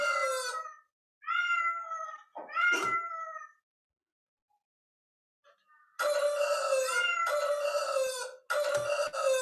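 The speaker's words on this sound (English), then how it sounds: "When it sees green, it makes a rooster sound. When it sees yellow, it makes a dog bark sound. And when it sees blue, it makes a cat sound." Electronic playback from a student-made creature toy: short cat meows, a rooster crow, then louder, longer cat-like calls separated by silent gaps.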